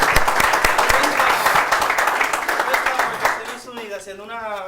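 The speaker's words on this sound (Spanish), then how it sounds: "Vamos a darle un aplauso a él." Audience applause for a guest at a Dominican storytelling talk show, a dense steady patter of many hands filling the room, with a voice rising over the clapping near the end.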